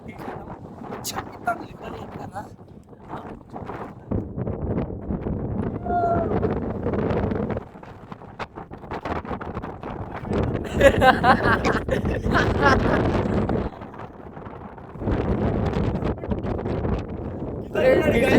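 Strong wind at Kondapochamma Sagar Reservoir buffets the microphone in uneven, rumbling gusts, with a person talking through most of it.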